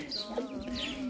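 Brief chicken clucking, a couple of short squawky calls close by over a low background hum.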